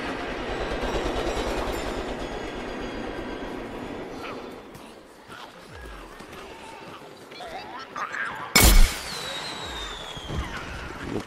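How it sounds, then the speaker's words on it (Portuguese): A train rumbles loudly past in the Plants vs Zombies video game, a steady clattering roll that fades midway, followed by a sharp burst of game effects near the end, with someone talking over it. "Vai logo, trem, cacete."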